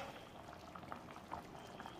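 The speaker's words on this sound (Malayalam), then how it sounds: "കറി നന്നായിട്ട് തിളച്ചിട്ടുണ്ട്" Kuttanad-style duck curry with coconut milk simmering in a pot, a steady low bubbling with a few brief pops, fairly quiet and without speech.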